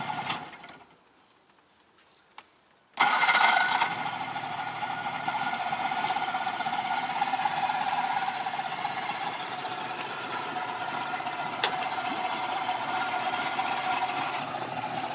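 An old, worn 60 hp two-stroke outboard motor on a MacGregor 26 sailboat fires up after a brief quiet gap, then runs steadily with a loud, buzzing, rattly drone that continues to the end.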